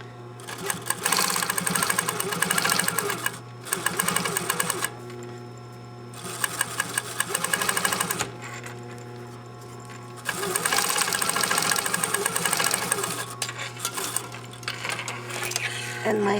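Sewing machine top stitching a sleeve binding on a costume, close rapid mechanical whirring in several bursts separated by short pauses, with a steady motor hum underneath.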